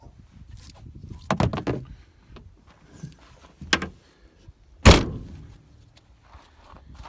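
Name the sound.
closing up a 1985 Subaru GL wagon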